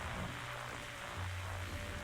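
Steady rain falls in a night scene in The Darkside Detective video game, a continuous hiss of rain on surfaces at even loudness with no voices.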